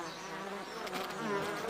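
Bees buzzing in a steady, faint drone that holds without a break through a short stretch, with no voices.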